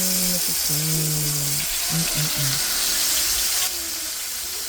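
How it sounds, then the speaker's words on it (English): A steady, loud sizzle of marinated chicken frying in a hot pan continues throughout, with a few low tonal hums running underneath. "that sizzling get real loud"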